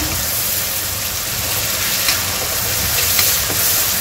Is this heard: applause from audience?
no